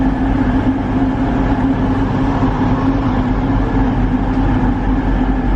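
A loud, steady rumble of a train idling or moving slowly at a railway station platform, a constant low mechanical drone with no talking.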